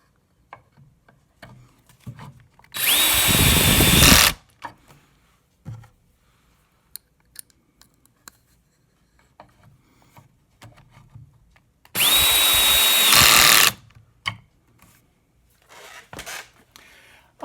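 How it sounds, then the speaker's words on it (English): A power drill drives screws into a wooden bath vanity frame in two loud, sustained bursts of about one and a half seconds each, separated by quieter bumps and handling noises. "and then screw it into place."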